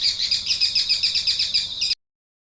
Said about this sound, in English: Parrot, parrot.